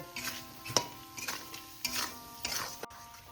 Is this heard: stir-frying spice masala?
yes